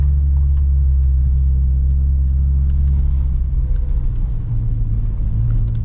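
A Ford Focus ST engine rumbles steadily up close while the car drifts on snow and ice in a parking lot, a low continuous drone with slight surges and no talk.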